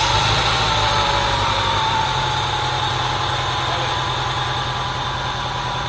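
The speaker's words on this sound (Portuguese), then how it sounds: "Eu vou estar funcionando esse motor, acredito que ele deve funcionar." A car engine run with no oil in it after a Nanotech 1000 treatment idles steadily nearby, giving a constant loud rumble with a busy mechanical rattle and no pauses or voices.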